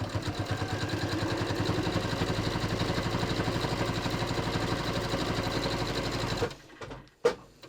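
A sewing machine stitches Velcro onto a pants waistband, a fast, steady rhythmic whir of needle strokes running close for several seconds before stopping, followed by a few brief handling knocks.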